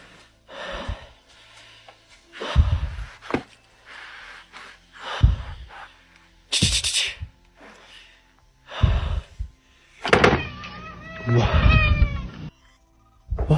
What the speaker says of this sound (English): His cats seem to meow a lot, like they are trying to tell him something.